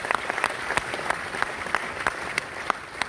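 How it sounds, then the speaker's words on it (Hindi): Loud sustained applause from a seminar audience at a business motivational event, a thick wash of many clapping hands with distinct sharp claps poking through, continuous and close. "पहले इन लोगों के लिए एक बड़े जोरदार ताली हो जाए।"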